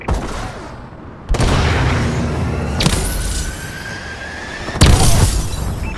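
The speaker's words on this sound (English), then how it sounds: "Friendly missile strikes inbound." Friendly missile strikes land during a Call of Duty: Advanced Warfare match, with loud booming explosions that hit at separate moments amid continuous battlefield rumble and scattered gunfire.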